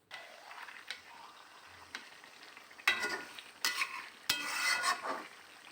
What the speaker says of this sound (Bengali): তারপর মাছ ভুনা করে নিচ্ছি